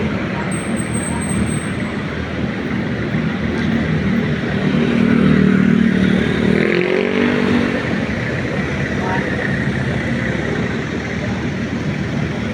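A Kawasaki big bike motorcycle engine rumbles steadily amid road traffic noise in Makati, swelling briefly as it revs and passes, loud and close.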